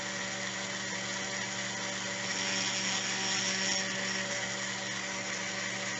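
Metal security pin being polished with 1000 grit abrasive, giving a quiet, steady whirring hiss with a faint tonal hum and no pauses.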